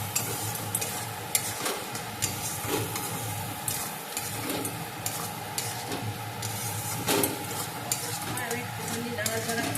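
Cauliflower and potato curry frying in a pan, stirred with repeated scraping strokes over a continuous sizzle, the spatula knocking and scraping at irregular intervals.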